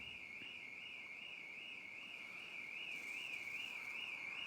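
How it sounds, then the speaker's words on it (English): A high electronic alarm wails continuously with a fast warbling pitch, steady and fairly faint as if from some distance, over a constant wash of outdoor background noise at a riverside fishing match. "It's even set the alarms going."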